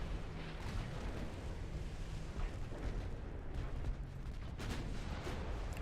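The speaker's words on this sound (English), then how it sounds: "Another torpedo hit." A torpedo strikes a warship in a naval combat game, heard as a dense, rumbling explosion wash with repeated booms and crackles layered over continuous low battle noise, fairly loud and sustained.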